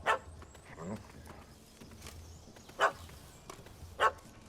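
A dog in The Witcher 3 game barks a few short, sharp times, spaced apart over faint background game sounds and a brief voice.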